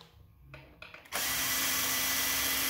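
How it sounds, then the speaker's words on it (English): A power tool spins up loudly and runs steadily, removing the 14 mm differential bolts from a Yamaha V Star 1100 rear wheel, after a brief quieter stretch of handling noise. "After it's loose, the differential bolts come out."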